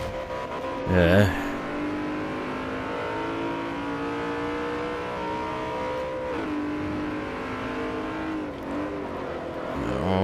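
BMW M3 E92 race cars in Forza Motorsport 4 drone with steady sustained engine noise through a corner, briefly rising near the start, while someone speaks over the racing.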